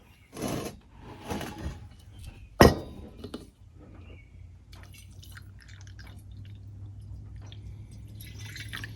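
Vinegar trickling and dripping into the metal base of a 1951 Coleman 228E lantern, a few clinks and one sharp knock, then a faint steady gurgle underneath, no talk.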